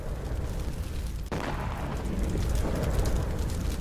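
Drone strike explosion at an oil facility, a deep rumbling blast with a sharp crack partway through, followed by continuous roaring fire and low booming noise.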